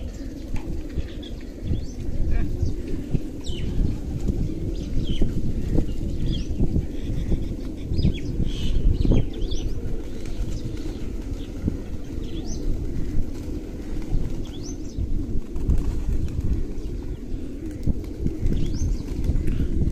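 Pigeons cooing and fluttering in a loft, a continuous soft coo and wing flapping close by, with some scuffling and a faint voice in the background.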